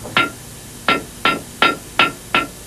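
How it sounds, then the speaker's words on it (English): A hammer strikes the bodywork of a crashed 300-horsepower Mitsubishi Pajero rally car during field repairs on the 1996 Dakar rally, six sharp, loud metallic blows close by at an uneven, roughly half-second pace. "with the use of a hammer, a few screws, a few basic repairs"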